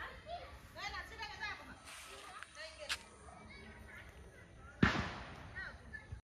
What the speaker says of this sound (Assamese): দেৱালী বম ফটকা ফুটাই আছে,